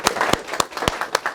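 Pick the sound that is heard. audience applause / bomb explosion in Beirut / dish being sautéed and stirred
audience applause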